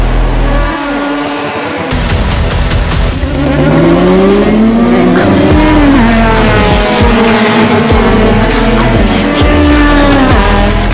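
Race car engine revving hard at the start line, a loud sustained roar with rising and falling pitch sweeps and some tire squeal, continuous with no talking.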